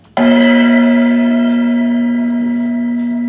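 A dinner gong is struck once, a loud metallic strike opening into a long sustained ringing tone with rich overtones that slowly fades over several seconds, heard alone.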